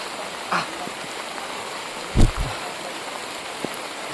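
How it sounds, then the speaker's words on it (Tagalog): Heavy rain falls in a steady, dense hiss with a few low thumps breaking through, loud and continuous with no voices. "napakalakas na ng ulan mga tol"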